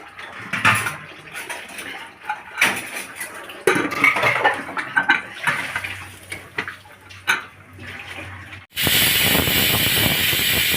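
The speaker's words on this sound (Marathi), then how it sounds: "शिट्टी वाजलेली आहे" A pressure cooker cooking chicken biryani on a gas stove: scattered kitchen clatter and soft knocks, then a sudden loud, sustained rush of steam as the cooker whistle vents for the final two seconds.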